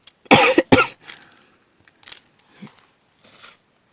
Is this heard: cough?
yes